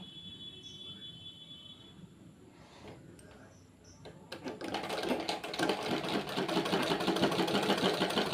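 A sewing machine stitches a sleeve with piping onto a nightie, quiet at first, then starting up midway into a loud, fast, continuous mechanical whirr close by.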